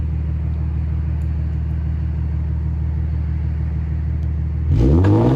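An Infiniti Q50 idles with a steady, loud, low rumble, then its engine suddenly revs up near the end as the car launches with traction control switched off.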